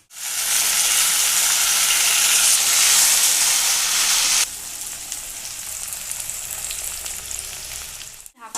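Chopped tomato drops into frying onions in a pan with a loud, dense sizzle that rushes for several seconds. The sizzle then settles into a softer, steady hiss as the pan keeps cooking. No one speaks.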